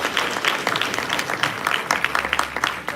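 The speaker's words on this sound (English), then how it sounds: "Let's give our panel a round of applause." Audience applause for a panel at a community event on Black wealth and home ownership, a dense, steady burst of many hands clapping for about three seconds, fairly loud and close, with no talking over it.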